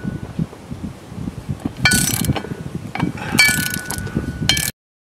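Socket wrench with an 18mm socket undoing driveshaft nuts on a VE Commodore during center bearing and drive coupling work: rapid ratcheting clicks with bursts of metallic clinking, close and fairly loud.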